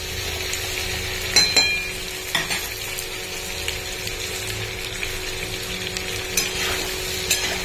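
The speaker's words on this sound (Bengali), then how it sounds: "ডাঁটা পোস্ত করছি, ডাঁটা পোস্ত ডাঁটা আলু পোস্ত করছি" Stalks, potato and poppy seed paste frying in a pan, a steady soft sizzle broken by several brief scraping stirs of a spoon against the pan, close and alone with no voices.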